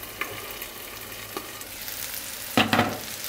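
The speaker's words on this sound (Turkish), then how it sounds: "Biberler de bir süre kızarsın." Peppers fry over high heat in a pan, a soft steady sizzle with a few stirring clatters and a louder burst of scraping near the end, no talking.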